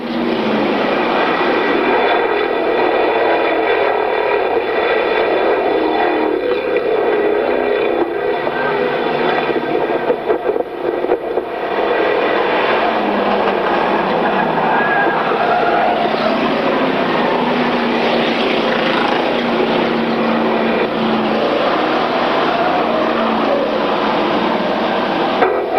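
Several race cars at Glade Speedway roar back up to speed on a restart with seven laps to go, a loud, continuous engine drone filling the whole stretch without voices on top.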